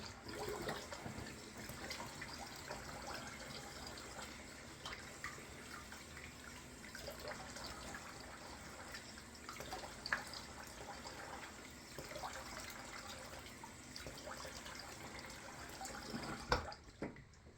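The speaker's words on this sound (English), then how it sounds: "Now that I'm rinsing some of the lather off, I feel a bit more stubble." Water from a tap running steadily into a sink while shaving lather from a safety-razor shave is rinsed off, a faint, even splashing wash with a few louder splashes and no talk.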